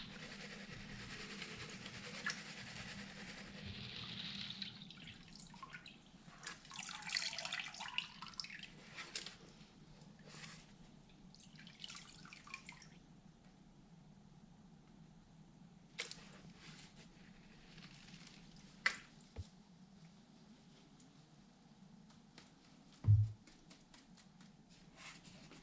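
Gold panning in creek water at Cache Creek, with soft sloshing, swirling and dripping and gravel shifting in the pan, faint and close, with a couple of sharper knocks near the end.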